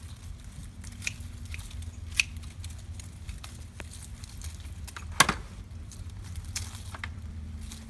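Scissors snip through small succulent stems with sparse, sharp little cuts and rustles against a quiet background, one louder snip standing out near the end.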